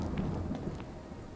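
Rain falls steadily in a thunderstorm in the video game Lunacy, with a soft low thunder rumble beneath the hiss, quiet and without speech.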